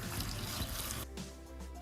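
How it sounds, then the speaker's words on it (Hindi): Water, one litre, poured into a large pot of chopped tomatoes and whole spices, a steady splashing gush close by that eases to a lighter trickle partway through, with no talking. "अब इसमें 1 लीटर हम पानी डाल देंगे।"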